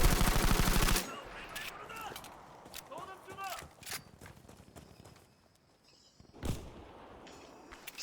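M1907 rifle fire in Battlefield V: a sharp automatic burst up front, then scattered footsteps and clattering game sounds, another single shot, with distant gunfire in the background.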